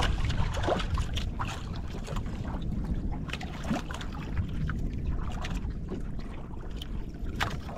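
A boat motor drones steadily beneath rushing water and wind buffeting the microphone, with occasional splashes and knocks.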